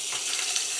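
A homemade beef burger patty fries in a pan after being flipped, making a brief, steady, close sizzle with no break.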